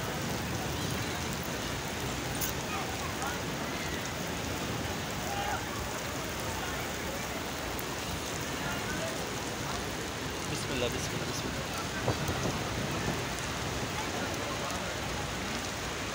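Steady rain falls at Masjid Nabawi in Madinah, a dense, continuous hiss of drops on surfaces that holds even throughout, with people speaking and murmuring prayers beneath it.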